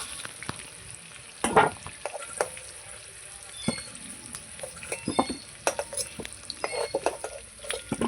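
Oil sizzles steadily in a pan, punctuated by scraping and clinking of a utensil stirring the food, fairly quiet and close.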